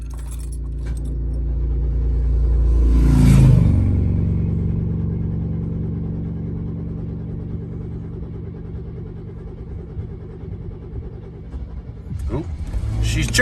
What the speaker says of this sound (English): So now we're gonna try one more time to start the truck.